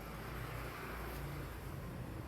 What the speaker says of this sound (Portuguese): Carro demais aqui onde eu moro.